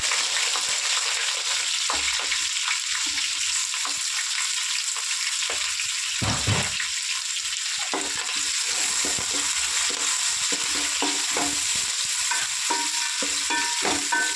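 Sliced onion and green chillies frying in a pan with spices sizzle steadily and loudly, while a spoon scrapes and clinks against the pan in irregular strokes, with no voices.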